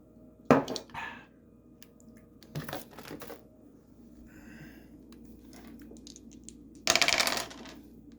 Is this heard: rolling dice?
yes